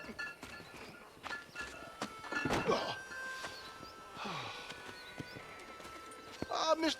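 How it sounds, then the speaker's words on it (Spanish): A horse in a Red Dead Western video game walks with clip-clopping hooves and gives a neigh near the middle, against soft game ambience with a few scattered clicks and thumps. "El caballo suyo ha spawneado también delante mío."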